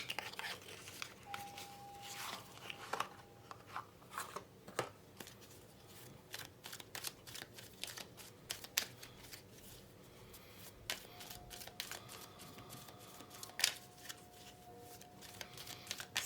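Tarot cards are shuffled repeatedly by hand, quiet close riffles and soft slaps in irregular bursts with faint room hiss, no talking.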